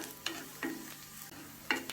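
Onions sautéing in a small, shallow clay cooking pot, with a ladle scraping and tapping around the pot's sides; a few distinct stirring knocks over a soft, quiet sizzle, no voices.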